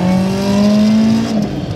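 A supercharged BMW E30 318is engine holds a loud, steady high rev with a clear harmonic whine before dropping sharply near the end, close and unbroken with no talk.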